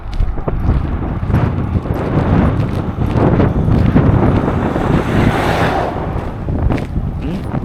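Strong wind buffets the microphone continuously on a walking trail in Fernhill, Queenstown, a loud roaring rush with gusts rising and falling throughout.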